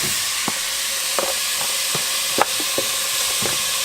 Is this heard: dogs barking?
no